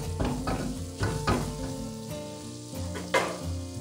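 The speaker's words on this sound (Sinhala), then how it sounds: "දැන් තක්කාලි ටික මෙන්න විදිහට කලවම් කරගෙන" Tomatoes stirred and sizzling in a pan for chicken kottu roti, with a continuous frying hiss and several scraping stirs near the start, close and clear, no voices.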